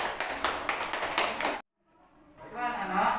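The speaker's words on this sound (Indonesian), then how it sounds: "Tepuk tangan sekali lagi." Classroom of students clapping together in quick, loud rhythmic bursts, then a sudden drop to silence before chatter and noise pick up again.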